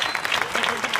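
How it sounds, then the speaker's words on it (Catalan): A brief burst of dense clapping from an audience at the opening ceremony of a second-chance school in L'Hospitalet, honouring the foundation president, steady and full throughout. "Sisplau, un aplaudiment molt fort pel president de la Fundació"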